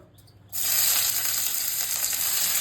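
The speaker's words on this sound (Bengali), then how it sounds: "তেল গরম হয়ে গেছে কেটে রাখা পেঁয়াজ আর টমেটো দিয়ে দেবো" Chopped onion and tomato drop into hot oil after a quiet moment, setting off a sudden loud, close sizzle that stays intense and steady to the end.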